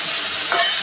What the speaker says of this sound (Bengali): কালো জিরে শুকনো লঙ্কা ফোড়ন দিয়ে আলুটাকে আগে হলুদ দিয়ে ভেজে নিচ্ছি।